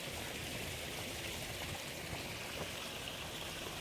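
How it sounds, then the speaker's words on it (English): A backyard garden waterfall in Brooklyn spills into a fish pond, giving a constant close splashing and rushing like heavy rain, with no pauses. "I was trying to show you this just beautiful waterfall and pond."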